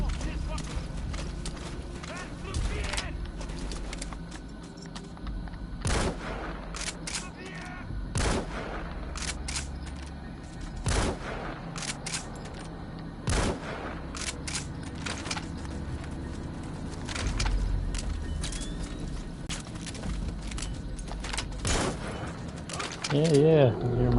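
Gunfire in Metal Gear Solid V, scattered sharp gunshot cracks spaced irregularly through a continuous background of game ambience, with a few clustered shots.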